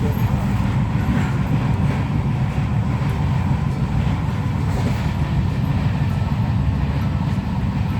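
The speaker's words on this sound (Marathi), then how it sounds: "ट्रेन सुरू झाली आहे" A moving train rumbles loudly and continuously with a steady low roar and faint rhythmic clatter, no voices.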